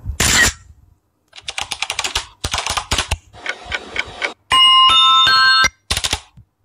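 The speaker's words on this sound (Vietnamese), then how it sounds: "tiếng gõ bàn phím này" Keyboard typing sound effect from a video-editing library: several loud, separate bursts of rapid clicking key strikes, alone, with brief gaps and a bright chiming tone partway through.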